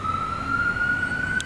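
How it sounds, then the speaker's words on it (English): An ambulance siren passes on a city street in Kota Kinabalu, Borneo, a steady wailing tone held throughout over a low traffic rumble, moderately close. "Ambulance going by."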